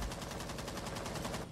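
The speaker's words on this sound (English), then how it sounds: "we already hear some gunfire somewhere." Rapid automatic gunfire in a video game esports match, a steady burst of evenly spaced shots rattling on without a break.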